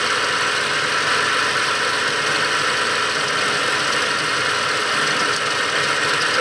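A car engine misfiring on five cylinders after an ignition coil fault, idling with a rough, uneven knocking rhythm, close and steady throughout with no talk.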